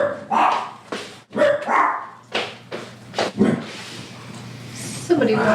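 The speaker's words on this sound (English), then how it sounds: "Somebody walking their dogs." Dogs barking outside as someone walks them, a few sharp barks and yips spread across the clip at moderate distance, mixed in with people talking indoors during a tabletop game session.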